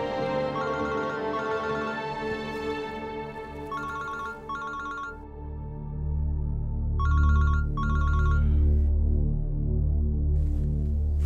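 A telephone rings in repeated electronic bursts, two quick rings per cycle, loud and close, over a low steady hum.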